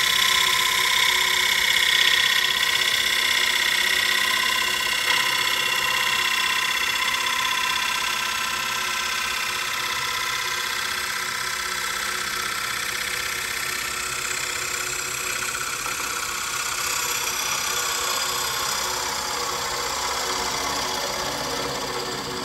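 A woodturning gouge takes a finish cut on a spinning lathe: a continuous, loud whirring and hissing of the tool shaving wood over the steady drone of the motor, unbroken for the whole stretch, with no talking.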